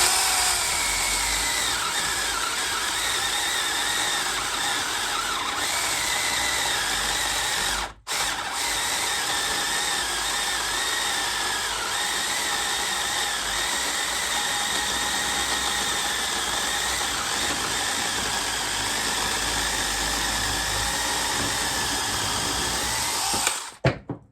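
Sainlogic mini electric chainsaw cutting through a roughly 5-inch white oak log, a loud, steady high-pitched motor whine that dips briefly partway through and cuts off near the end, close up with no talking.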